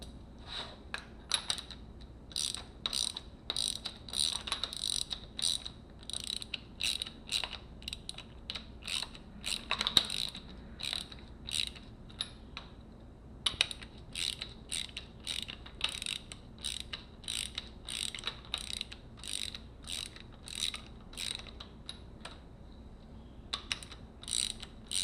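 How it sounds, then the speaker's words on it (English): A 12 mm wrench working a nut on Honda CRF450x motorcycle suspension produces rapid ratcheting clicks in quick bursts with short pauses between strokes, close up and crisp. "Alright, we're going to take that nut off."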